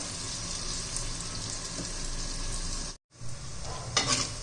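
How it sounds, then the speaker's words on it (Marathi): Chopped onion sizzling in a pan for chicken biryani, a steady dense frying hiss throughout with a brief break and a louder stirring scrape near the end. "आपण परतून घेणार आहोत हा कांदा भाजून घेणार आहोत"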